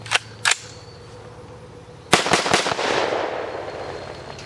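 A rifle fires 5.56/.223 full metal jacket rounds downrange: two sharp, loud shots, a pause, then a quick burst of three or four shots with a lingering outdoor echo.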